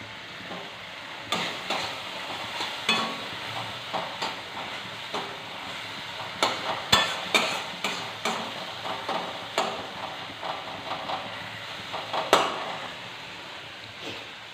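Prawns fry in a tomato and spice masala, a constant sizzle broken by regular spatula scrapes and stirs that come in a steady rhythm of soft bursts, with a few sharper clinks.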